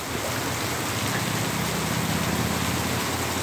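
Steady, dense rain pattering on a surface, a constant hiss with no pauses or voices.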